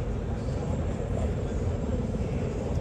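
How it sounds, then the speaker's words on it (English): A steady low rotor-like rumble from a helicopter in the video game Arma 3 drones overhead throughout, a continuous engine noise with no clear pauses. "That's a helicopter that we can hear overhead."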